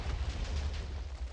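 A Minecraft explosion erupts as one sustained, rumbling blast with a deep booming low end, loud and close, with no talking.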